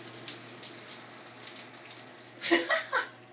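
A weak shower barely trickles from the head, a faint, thin hiss of falling water with a few louder spattering drips near the end.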